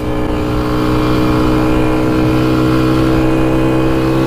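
A quad ATV engine held at full throttle without bogging, producing a loud, steady, close-up drone that stays pinned at constant high revs throughout, with no talk.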